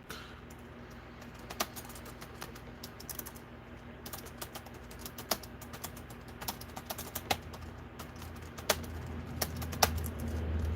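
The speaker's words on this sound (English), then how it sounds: "let me finish typing out this question" Rapid typing on a computer keyboard, close and crisp, with irregular clicks and sharper key strikes in uneven bursts over a low room hum.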